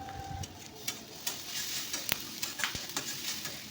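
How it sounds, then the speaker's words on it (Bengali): Onions softening in hot oil with nigella seeds, a low fry hiss under scattered clicks and taps of a spoon against the pan, close and fairly quiet. "পেঁয়াজটা একটু নরম হয়ে আসছে কালো জিরে একটু দিয়ে দেবো অল্প কালো জিরেটা দিয়ে দিলাম"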